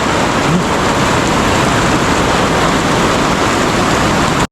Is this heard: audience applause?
no